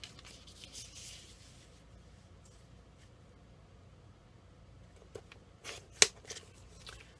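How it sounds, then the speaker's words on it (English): Paper being cut with scissors for a handmade card in a quiet room: faint, sparse snips and rustles, with a sharper, louder cut near the end. "So let me cut my piece here that wide."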